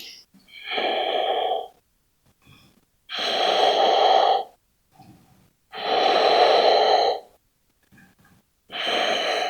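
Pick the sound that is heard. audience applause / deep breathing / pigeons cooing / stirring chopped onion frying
deep breathing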